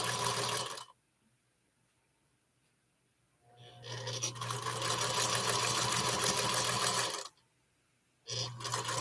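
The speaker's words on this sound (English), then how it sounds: "So now I will chain sew these together." A sewing machine chain-stitches quilt block pieces for a Jacob's ladder quilt, running in two steady loud bursts of a few seconds each with a quiet pause between, close and alone with no talk.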